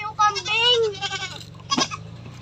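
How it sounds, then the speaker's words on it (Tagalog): A goat bleats close by in one long, wavering, nasal call, followed a moment later by a short, sharp knock. "Nahawakan ko yung kambing na."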